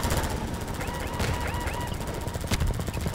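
Rapid automatic gunfire from the video game Half-Life 2 rattles continuously at moderate level, with a couple of sharper bursts standing out near the middle and end.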